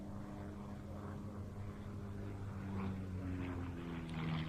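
An RV8 light propeller aeroplane flies aerobatic manoeuvres at the Old Buckenham airshow, a fairly distant, steady drone whose pitch slowly rises and swells louder toward the end, with crowd murmur faintly underneath.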